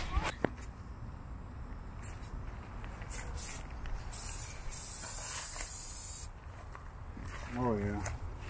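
Spray gun laying a hard coat onto a 2007-2013 Chevrolet Silverado HD truck, a steady close hiss that pauses and resumes, while people talk nearby.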